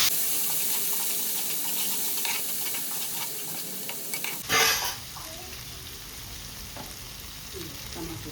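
Ginger garlic paste and turmeric stirred in a pan for a mutton paya curry, a soft continuous sizzle with light scraping, a brief louder rush midway, then quieter frying.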